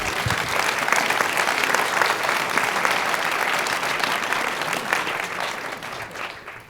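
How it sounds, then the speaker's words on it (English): A literature festival audience gives sustained applause, a loud, even wash of clapping from many people that holds steady and then tapers off at the close. "So I think a very big clap for her to begin with."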